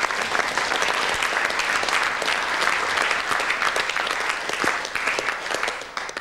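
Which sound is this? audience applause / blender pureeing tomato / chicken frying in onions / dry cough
audience applause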